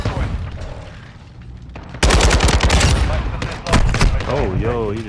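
Rapid automatic fire from a Kastov 762 in a video game bursts loudly and close in sustained volleys, with game voices and a player talking underneath.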